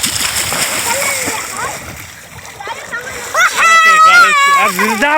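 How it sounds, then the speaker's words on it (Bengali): Children bathing in a pond splash and slosh the water loudly and close by, while their high excited voices call out and shout over the splashing. "পানি ফেলাচ্ছি কে"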